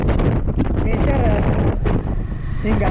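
Wind buffets the microphone at Baba Falls, a waterfall in sun, wind and rain, as a loud, continuous roaring rush that barely lets up.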